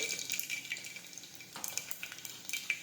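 Garlic, mustard seeds and cumin sizzling in hot oil, a faint crackling hiss with small pops scattered throughout the short stretch.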